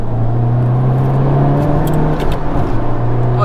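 A Ford Focus RS or Honda Civic Type R hot hatch being driven during a handling test, its steady engine drone and tyre-road rumble filling the cabin continuously and loudly, with a slight rise in pitch near the end.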